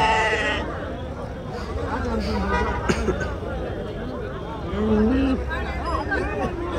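Ram lambs bleat repeatedly amid the busy hubbub of an outdoor sheep market in Angallu. Several calls rise over a steady crowd murmur, with people talking nearby.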